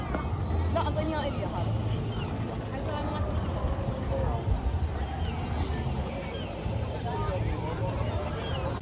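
Steady hubbub of many voices fills the grounds of Cedar Point amusement park, a dense, continuous crowd babble with distant mechanical rumble underneath and no single voice standing out.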